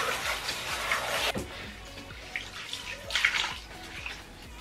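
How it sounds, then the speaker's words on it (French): A water jet rinses the hair of a wig after the tips are dipped, a steady close hiss of spraying water that pauses briefly and resumes. "on passe le jet d'eau"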